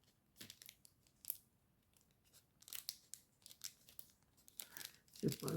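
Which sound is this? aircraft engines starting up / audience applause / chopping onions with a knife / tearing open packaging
tearing open packaging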